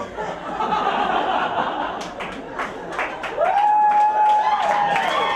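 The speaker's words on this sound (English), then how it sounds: "You wait on the applause break and you get one" Comedy club audience in Atlanta breaking into applause and laughter after a stand-up punchline, a broad crowd wash that swells midway, with a voice speaking over it.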